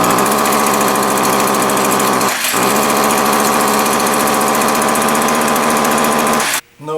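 STIHL FS 70R string trimmer engine running after repair work, a loud, steady high-pitched two-stroke drone held close up with a brief dip midway, then cutting out abruptly near the end.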